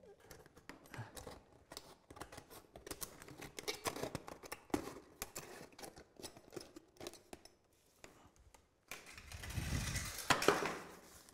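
Material along the edge of a dry vented roof ridge is trimmed off with a run of close, crisp snipping cuts in irregular bursts, followed by a louder scraping rustle at the end.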